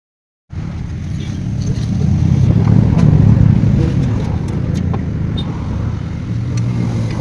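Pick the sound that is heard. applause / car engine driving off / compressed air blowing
car engine driving off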